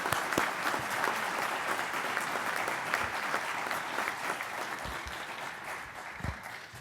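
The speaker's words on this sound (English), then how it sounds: "We certainly want to give them a rousing applause on their well accomplishments." Audience applause fills a graduation ceremony for Advanced Technology Institute graduates, a steady dense clapping that runs evenly for several seconds with a few sharper claps near the end.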